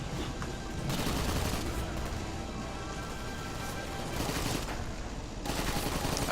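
Video game gunfire in a Garry's Mod zombie sandbox rattles in a continuous, dense fusillade of rapid shots, moderately loud and without pauses for the whole stretch.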